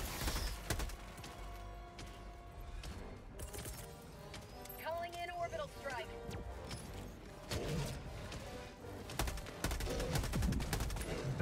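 Rapid gunfire in the video game Helldivers, with bursts of shots and clatter running throughout under excited player chatter.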